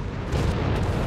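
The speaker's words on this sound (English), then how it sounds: "There we go, cover bombing run here. Units being hit by artillery fire here." Artillery explosions from a bombing run in the Company of Heroes 3 strategy game rumble as a dense, loud, booming roar that swells slightly and carries on without a break.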